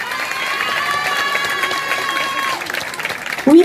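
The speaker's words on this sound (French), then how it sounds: "Allez, on applaudit Océane encore." A crowd claps for a singing contest candidate, Océane, in Surgères. A steady wash of applause under a held singing tone, with a loud bump at the very end.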